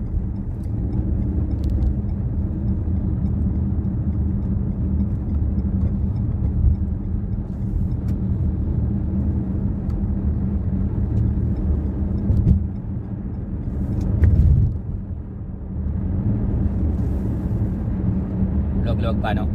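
Traffic rolls along King Fahad Road: a dense, steady rumble of car engines and tyres that holds throughout, with one nearer vehicle briefly swelling louder partway through.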